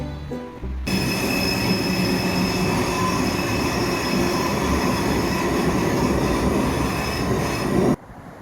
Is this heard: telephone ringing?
no